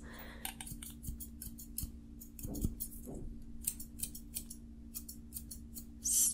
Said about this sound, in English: Scissors, snip, snip,